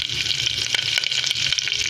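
Spices and ginger chilli paste sizzle loudly in a frying pan as they are stirred, a bright continuous crackle with soft scraping strokes, close up.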